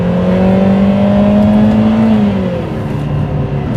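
A Lotus Emira i4 turbo with a Milltek exhaust revving hard: a loud, close, sustained engine drone that climbs in pitch and then eases back, with no voices.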